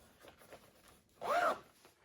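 A zipper on an IRON all-season motorcycle jacket is pulled in one quick, fairly loud zip near the mic, after a few faint rustles and handling sounds.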